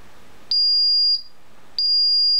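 A two-wire Paradox fire smoke detector sounds its alarm in two loud, piercing, steady high-pitched beeps, each about half a second long and separated by a brief gap, with no talking.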